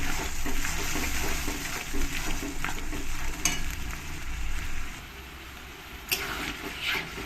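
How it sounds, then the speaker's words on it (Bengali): Spices with ginger and garlic paste sizzling and being stirred in a pan for Bengali chicken jhol with potatoes, a steady frying hiss with scraping strokes that eases off toward the end. "সব উপকরণগুলো আমি একসঙ্গে নিয়ে ভালো করে আমি কষিয়ে নেবো"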